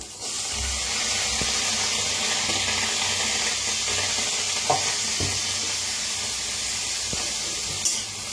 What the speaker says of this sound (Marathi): छान असं पहिलं भाजूया, नंतर मग तेल ओतून भाजायचं।